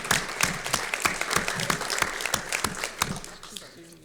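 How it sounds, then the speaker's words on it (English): Audience applause at a Sun Lakes community gathering, a steady crowd clapping with sharp individual claps standing out, fairly close, fading toward the end with a little talk underneath. "Let's everybody give him a round of applause."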